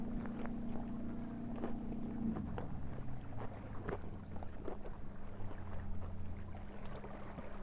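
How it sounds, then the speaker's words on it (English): A speedboat passes on a lake outdoors, its steady engine drone falling in pitch as it goes by, with wind buffeting the microphone throughout. "Sorry, that speedboat's loud."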